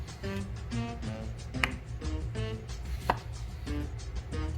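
A knife slices through a raw potato, cutting it into slabs for homemade french fries, giving a few sharp, distinct cuts against a cutting board over a steady background hum.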